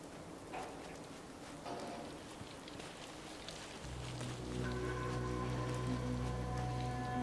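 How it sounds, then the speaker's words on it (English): Steady rain falls in the Fallout 4 game world, a dense continuous patter that swells louder partway through, joined by a low rumbling drone and faint tonal hum; no voices. "Thinking how wonderful it'd be to get out of this infernal rain."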